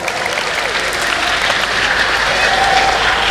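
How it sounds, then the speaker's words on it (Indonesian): An audience at an Islamic family talk breaks into loud, sustained applause for the children, a dense continuous patter of many hands that holds steady and grows slightly toward the end. "Ayo tepuk tangan untuk anak-anak semua."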